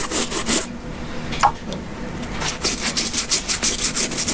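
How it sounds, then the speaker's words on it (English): Brisk scrubbing strokes of a brush work dirt and grime out of the stitching on leather moc toe boots, close and rhythmic with short bursts of rapid rubbing. "Getting all that dirt and grime out of the stitching."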